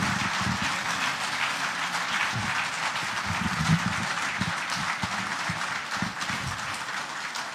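Audience applause greets quarterback Warren Moon at a CFL quarterback panel in Regina, a steady, dense crowd clapping that holds loud and even throughout with no talk over it.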